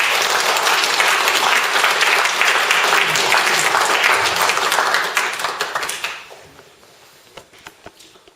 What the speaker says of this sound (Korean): 굉장히 박수 한번 드립니다.